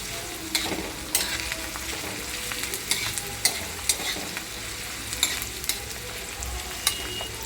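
Onion frying in a pan for a tangy raw mango chutney, giving a steady broadband sizzle with repeated scraping clicks as it is stirred, close and alone without any voices.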